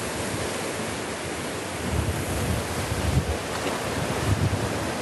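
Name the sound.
wind on fishing rod by the sea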